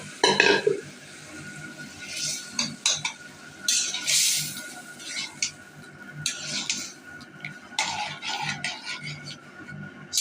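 Bottle gourd dal being stirred in a pan, intermittent scraping and clinking of a utensil against the metal with bursts of bubbling and sizzling, nearby and uneven in rhythm.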